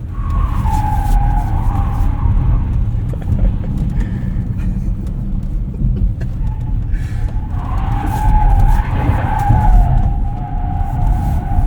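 A 2024 Ford Mustang Mach-E electric car, traction control off, skids through rally-style driving on a course, its tires squealing and scrubbing in wavering bursts over rumbling road and wind noise, loud and close.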